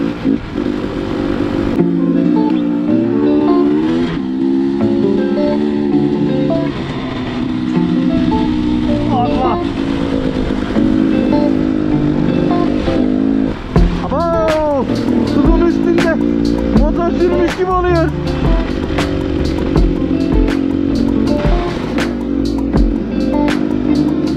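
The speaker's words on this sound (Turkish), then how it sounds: "Evet, motora bineceğiz." Motorcycle engine droning steadily and loudly from up close, with rising and falling pitch as the rider changes speed, and voices talking over it in places.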